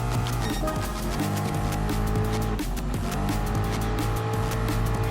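Rally cars racing in Gran Turismo Sport, including an Audi and a Ford Mustang Gr.B rally car on an off-road course, with continuous loud engine roar, revving and tire squeal throughout.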